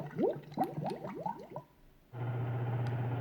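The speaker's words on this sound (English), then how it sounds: "simultaneously decided to put bubbles into a sound machine" Bubbling water effect from a Mifa sound machine: a rapid run of rising, gurgling bubble pops for about two seconds, then it cuts to a steady, fan-like hum.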